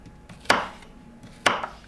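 A knife slices lengthways through a potato for homemade French fries, giving two crisp, close chops on a cutting board about a second apart, with faint handling sounds between them.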